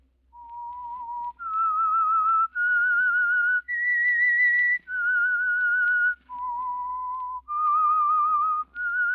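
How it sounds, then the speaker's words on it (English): A clear whistled tune, the opening signature of the radio drama The Whistler, a slow melody of sustained notes rising and falling, close and loud with short breaths between phrases. "That whistle is your signal for the Signal Oil Program"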